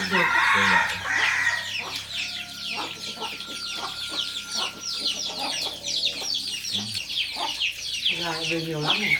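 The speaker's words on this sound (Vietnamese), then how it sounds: "gà về nhiều lắm này" Farm chickens cluck busily on a rural farm while a rooster crows loudly at the start, with a bed of overlapping hen chatter and calls close by and faint human voices under it.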